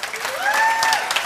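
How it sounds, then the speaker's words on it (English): A short burst of clapping from an audience, brisk and scattered, with a faint whistle-like tone rising through it. "he and his team deserve a round of applause"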